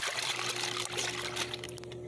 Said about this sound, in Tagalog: nilagay ko na yung downy sa tubig,